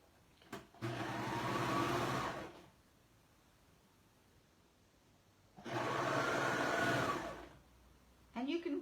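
A serger sewing machine stitching a textured quilt block runs in two bursts of about two seconds each, a close steady whirring hum, with quiet pauses and small handling clicks between.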